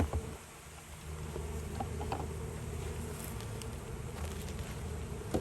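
Honey bees buzz steadily during a hive inspection, a dense continuous hum from many insects close by, with occasional light knocks and rustles from handling the hive.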